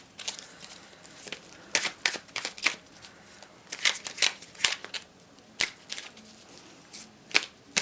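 Tarot cards shuffled by hand, quiet riffling flutters and crisp snaps in uneven bursts, some sharper slaps standing out, with no voice over them.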